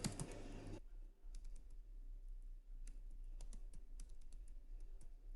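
Someone types a password into a web form on a computer keyboard, quiet scattered key clicks at an irregular pace after a brief burst of noise.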